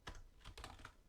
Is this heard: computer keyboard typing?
yes